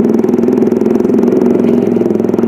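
Motorcycle with a racing exhaust running nearby, a loud, rough, steady engine drone with a rapid pulsing rumble and no voices.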